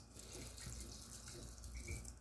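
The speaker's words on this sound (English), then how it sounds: "we are going to use bottled water because tap water is gross" Bottled water pours into a rice cooker pot over freshly washed rice, a steady close splashing stream that runs for about two seconds without a break.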